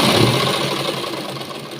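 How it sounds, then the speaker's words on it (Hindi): A sewing machine stitches a double seam on a blouse, running as a steady, close, dense mechanical whir with no pauses. "डबल सिलाई लगा देंगे, पक्का कर देंगे इसको।"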